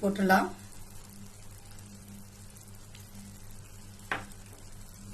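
Erode Pallipalayam chicken fries in a pan as previously fried coconut is added and stirred. A brief loud burst of sizzle and stirring at the start settles into a faint, quiet fry with one clatter, while someone talks.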